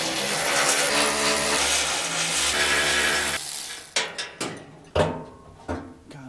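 Heavy steady whir of a power tool working on truck mounts for about three and a half seconds, then stops, followed by a series of sharp metallic clanks and knocks spaced irregularly.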